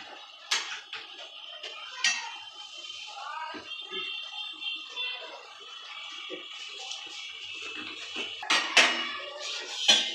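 Bottle gourd greens are stirred in a cooking pot at home, giving soft scrapes and scattered metallic clinks of a utensil against the pot, some sharper knocks near the end.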